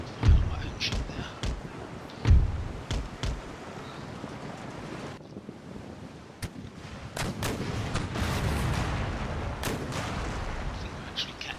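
Ship cannons boom in a naval battle in the strategy game Empire: Total War, with several loud shots near the start and further scattered blasts over a steady wash of wind and sea, and someone talks throughout.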